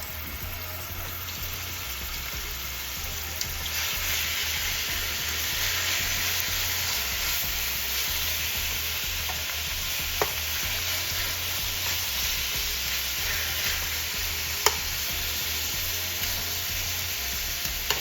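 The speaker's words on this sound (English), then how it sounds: "See that sizzle?" Steady, loud sizzling of marinated chicken frying in a hot skillet, a continuous crackling hiss with occasional sharper pops, no talking.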